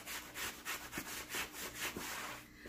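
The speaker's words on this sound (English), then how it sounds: "I'll continue scrubbing very gently with a sponge the bag until I've worked on all the areas that have staining" A sponge gently scrubs the stained suede leather interior of a designer handbag, making close, rhythmic rubbing strokes, about eight back-and-forth swishes that stop near the end.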